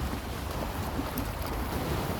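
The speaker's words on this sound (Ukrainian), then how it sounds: "Піднімається трошки хвиля" Small waves lapping on open water at a lakeshore fishing spot for crucian carp, a steady wash of water mixed with wind buffeting the microphone, close and continuous with no talking.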